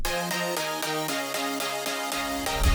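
Drum and bass synth chords processed with EQ, OTT compression and a clipper in FL Studio pulse in steady bright stabs through a short progression, dense and loud with nothing else playing.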